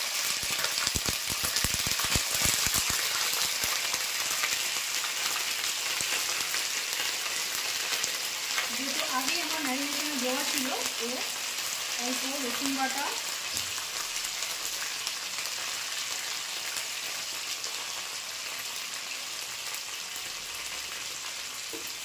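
Spices and ginger paste sizzle steadily in hot mustard oil in a pan for a Gondhoraj chicken dish, and a spoon scrapes and stirs in short bursts partway through. The frying noise fades gradually toward the end.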